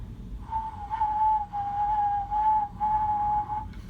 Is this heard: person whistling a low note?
yes